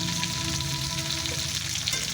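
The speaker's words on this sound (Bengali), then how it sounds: "মাংসের পিসগুলো একেবারে দিয়ে দিয়েছি, চাইলে আপনারা দুবারেও ভাজতে পারেন" Chicken pieces frying in oil in a pan, a steady close sizzle with soft crackling throughout, no talking.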